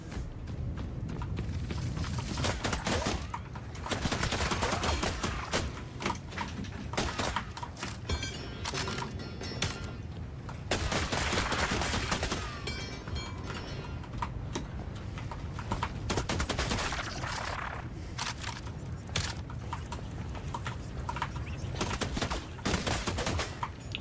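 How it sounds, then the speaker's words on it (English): Gunfire in The Last Caretaker video game, dense bursts of shots and clattering impacts running continuously and loudly throughout, with no talking. "let's go out and shoot some stuff"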